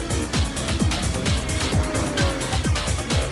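Racing cars, a Honda NSX and a Lamborghini Murcielago, in a video game race, with loud engines repeatedly revving and shifting in quick cycles and dense mechanical roar throughout, without speech.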